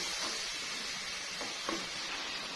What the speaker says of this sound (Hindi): तो देखिए, मटन हमारा भून रहा है